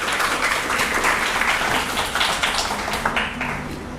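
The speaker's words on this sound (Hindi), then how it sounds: "इसके लिए हम सबको जोरदार तालियां से इनका स्वागत करना चाहिए" Audience at a college event applauds a senior journalist as he is welcomed, with dense, continuous clapping filling the room at steady loudness for the whole stretch, without speech.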